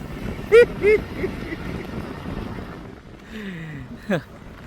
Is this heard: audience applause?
no